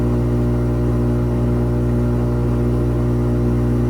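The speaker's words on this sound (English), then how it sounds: "Yep, entering a spin it looks like." Kenmore Elite HE4t front-load washing machine ramping into its spin cycle, a steady loud low hum and whir of the motor and drum, continuous and close with no talking.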